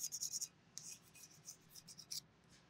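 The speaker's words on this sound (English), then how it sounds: "Go ahead and clean it up with a scraper." A metal scraper rubs across a vacuum pump end cover during a Masport HXL series pump rebuild, a quiet rhythmic series of short scraping strokes, about ten in bursts, close and alone.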